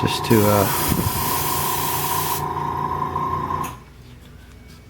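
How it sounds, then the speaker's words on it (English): An airbrush hisses as it sprays paint onto a Robby the Robot model at low pressure, a steady airy spray that drops off partway through and stops near the end, with someone talking over it. "I'm not putting much pressure on my airbrush there"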